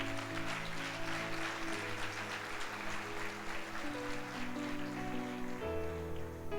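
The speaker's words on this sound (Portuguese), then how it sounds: "Pode aplaudir." A church congregation at a Sunday service applauds, a sustained wash of many hands clapping at moderate level, with a music bed holding underneath throughout.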